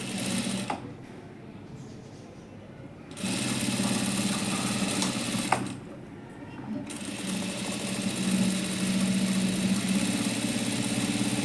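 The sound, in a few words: sewing machine stitching a double seam on a blouse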